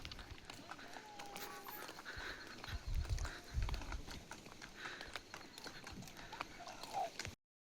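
Horse hooves clip-clop on a hard surface in a quick, uneven rhythm, fairly close, during a horse ride at Sinhagad fort, with outdoor crowd noise and voices in the background.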